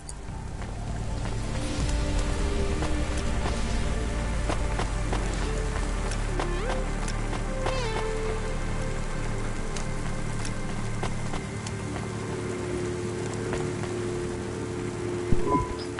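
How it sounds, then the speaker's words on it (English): Rainfall in the PlayStation 5 game CloudPunk gives a steady, even wash of rain on city surfaces. It carries on throughout under a low tonal hum, with a brief louder knock at the very end. "Don't let all the rain get you down."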